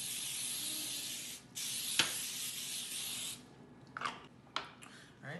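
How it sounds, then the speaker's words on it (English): Pam cooking spray hisses onto cookie dough in steady aerosol bursts, a long continuous spray followed by several short spritzes, close and fairly quiet, with no talking. "we're going to spray with the Pam cooking spray"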